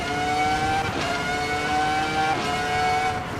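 A Formula 1 car in the Assetto Corsa EVO racing game screams around the Mount Panorama circuit, its high engine whine sustained and loud, with two brief gear-shift dips as it holds speed.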